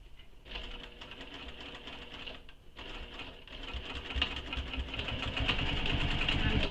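A sewing machine runs steadily while stitching the edge of a Wild Rose shoulder bag, with a brief pause near the start before the motor resumes and builds slightly louder toward the end.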